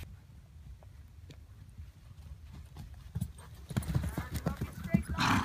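Horse hooves drum across turf toward a cross-country fence during a jumping clinic, steady clip-clop strides growing louder and closer, with a person talking over them.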